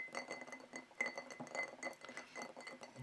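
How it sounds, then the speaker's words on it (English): Ice sphere, already partly melted and smaller, stirred by finger in a glass of bourbon, giving faint, close, repeated glassy clinks and soft knocks at a quiet level with no talking. "Finger stir."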